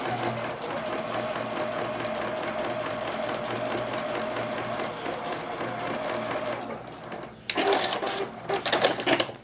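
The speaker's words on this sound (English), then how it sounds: "I'll bring this over to my sewing machine" Home sewing machine stitching quilt binding strips, a steady rapid mechanical whir with rhythmic needle ticking throughout, briefly pausing near the end before a louder burst of clattering motion.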